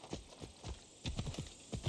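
A horse trots in Assassin's Creed Odyssey, its hooves clip-clopping in an uneven run of soft thuds, fairly faint and without talk.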